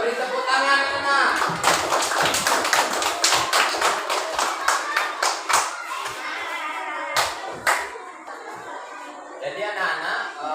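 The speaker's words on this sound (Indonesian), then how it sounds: "Ya, beri tepuk tangan anak." Children in a classroom clap together in a quick, rhythmic burst that thins into scattered claps, with some thumps and children's voices mixed in.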